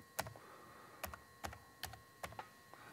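Close, crisp keyboard keystrokes arrive in a loose rhythm, single taps and quick pairs spaced out over a few seconds, fairly soft over a low background hum while someone works a replay system.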